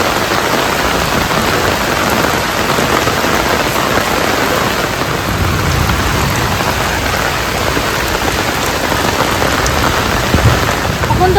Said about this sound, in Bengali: ওইদিকে দেখো তবে বৃষ্টিটা মানে নেমেছে ঝমঝম করে, জোরে বৃষ্টি হচ্ছে